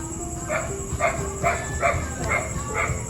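Several dogs bark outdoors in a steady series of short, evenly spaced barks. They sound moderately near against a constant background hum, with no talk.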